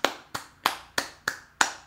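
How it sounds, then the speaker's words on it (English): Six sharp hand claps ring out alone at an even, steady pace, close by and moderately loud, each with a quick decay. "That's a clap for me."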